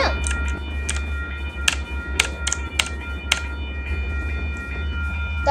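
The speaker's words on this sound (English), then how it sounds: "Let's wait for the train to go by." A train passes a railroad crossing, heard as a steady low rumble with a string of sharp clicks and knocks scattered across it. The level stays fairly even, with no voices.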